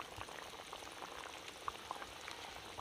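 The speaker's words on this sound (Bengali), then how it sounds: "ঝোল ফুটে উঠেছে" Fish curry broth bubbles at a quiet, steady boil in the pot, with small pops and gurgles over a soft, even simmer.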